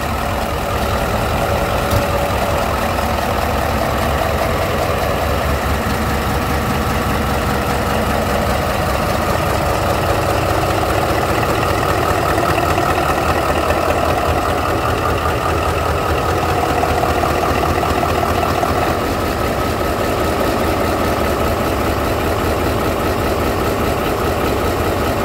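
Steady rumble of a BR285 diesel locomotive engine (2200 power rating, F-16V 4000 R41L) running in its engine compartment, a continuous close, loud drone with idling tone and no talk.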